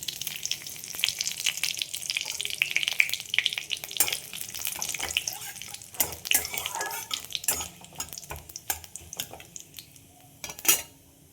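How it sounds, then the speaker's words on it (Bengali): Cumin seeds and a torn bay leaf sizzle in hot oil in a pan. A soft, steady frying crackle runs throughout, broken by sharp clinks and scrapes of a metal utensil against the pan. "তেলের মধ্যে আমি জিরে ফোড়ন দিয়ে দিলাম"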